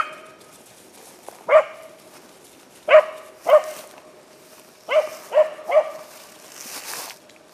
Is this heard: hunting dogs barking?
yes